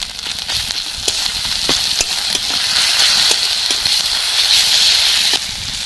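A spice paste of ground turmeric, cumin and coriander fries steadily in a pan, a constant bright hiss with scattered small pops and crackles throughout, close and fairly loud with no talking.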